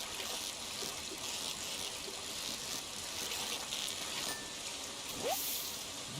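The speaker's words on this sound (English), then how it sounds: "it's actually raining here at my house too" Steady rain falls outside a house, a dense even hiss of drops spattering on surfaces with a faint trickle running through it, continuous and unbroken with no voices.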